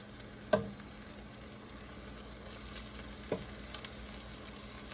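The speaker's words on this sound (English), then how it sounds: "we could drop these in our oil. Our oil is still set at 350 degrees." Floured shrimp dropped into oil heated to 350 degrees, a sharp splash-like burst at the start, then a steady low frying hiss with a second brief burst as more pieces go in, no voices.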